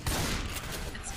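Gunfire in the video game Left 4 Dead, a loud burst of heavy shots that rumbles and echoes through a short moment, with a faint hint of voice underneath.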